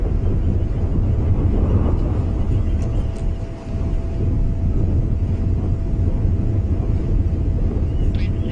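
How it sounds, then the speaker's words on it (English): A strong, cold north wind blows hard across the microphone on a safari drive at sunrise, a constant loud rumbling buffet that barely eases for the whole stretch. "What a strong cold wind that's just picking up,"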